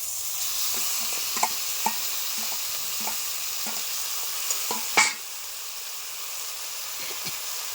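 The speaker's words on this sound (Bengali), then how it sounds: "দিয়ে দিচ্ছি সিদ্ধ করা কচুর শাকগুলি" Boiled taro greens hit a pan with chitol fish, a steady frying hiss broken by repeated light scrapes of stirring and one sharp louder clatter midway, close and fairly quiet.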